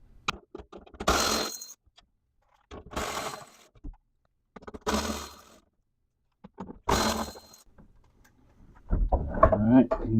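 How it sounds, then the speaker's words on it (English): A 10 mm wrench works loose the bolts holding a TRD skid plate under a truck, giving bursts of close metallic ratcheting and rattling separated by short pauses, followed by louder clattering handling noise at the end. "we're going to use our 10 millimeter to remove 5 bolts"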